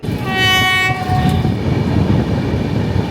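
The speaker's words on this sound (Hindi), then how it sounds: "ये है मेरे यहाँ का गौरीगंज का रेलवे स्टेशन और इसी प्लेटफॉर्म नंबर 1 पर वो ट्रेन आएगी।" A train sounds a long, loud horn as it arrives at platform 1 of Gauriganj railway station, then the heavy rumble and clatter of the rolling cars carry on steadily.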